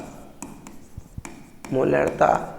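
A pen writes a molarity formula by hand, making short scratchy strokes and taps on paper, with a voice speaking over the later, busier writing.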